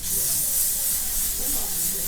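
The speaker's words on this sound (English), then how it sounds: "So lastly, I'm going to spray my face," Makeup setting spray misted onto a face during bridal makeup, a steady soft hiss lasting the whole moment, close and fairly quiet.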